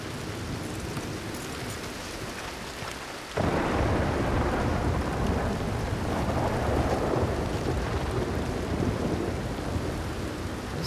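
Steady rain hisses throughout in Red Dead Redemption 2, then a low thunder rumble swells abruptly and rolls on under the downpour, loud and enveloping.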